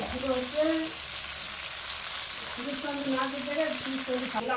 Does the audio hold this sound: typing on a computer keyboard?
no